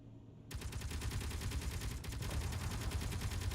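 Twin cannons on a tank firing in a video game, a burst of rapid, loud, crackling shots that starts abruptly and keeps hammering close and dense for about three seconds, with no talking.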